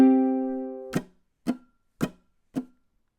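Ukulele playing a song: one ringing chord fades out, then four short percussive muted strums land evenly in time, close and clean with no talking.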